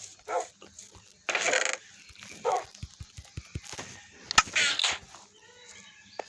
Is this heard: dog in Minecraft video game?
yes